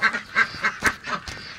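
Pekin breeder ducks at swimming time quack in a quick, regular series of nasal calls, close and fairly loud, about six quacks in under two seconds.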